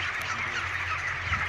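Harvested chickens packed in crates at a poultry farm in Calinan District, Davao, keep up a dense, steady chorus of clucking and squawking that fills the whole short stretch at close range, with no talk.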